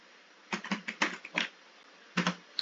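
Close, crisp keystrokes on a computer keyboard tapped in short irregular bursts, a quick flurry of clicks followed by a pause and then two more taps.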